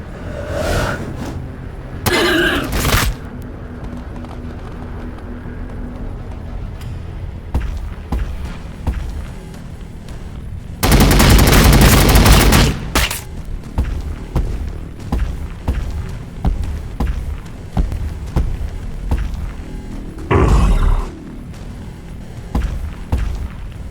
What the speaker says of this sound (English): Firing. Opening fire.